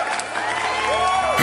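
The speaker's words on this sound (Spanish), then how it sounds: "¿No hay un aplauso para esta escuadra europea?" Crowd cheering and applauding for a European squad at a pet-game match event, a broad continuous roar of voices with some whoops, loud and steady throughout the short burst.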